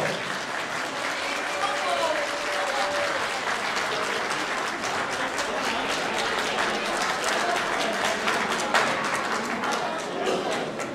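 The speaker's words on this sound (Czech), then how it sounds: "Takže poprosil bych o potlesk," Audience at a children's show applauding for a group of girls, sustained dense clapping filling the room, with a few voices and cheers mixed in.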